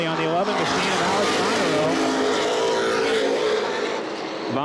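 Late model stock cars race at Baer Field Speedway in 2011, engines roaring steadily and loudly throughout, with a commentator talking over the continuous drone.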